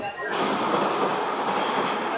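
A train on the Howrah to Puri route runs with a steady, broadband rolling roar that stays even throughout, heard from inside a carriage.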